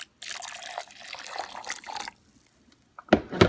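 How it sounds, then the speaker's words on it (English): Warm water poured onto soaked almonds, a steady close splashing pour for about two seconds, then a pause and a brief louder burst of water near the end. "I'm gonna put some warm water in."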